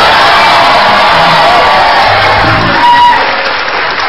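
Studio audience on an Indonesian comedy variety show making loud, sustained crowd noise of cheers and shouts, with possible applause, filling the space throughout.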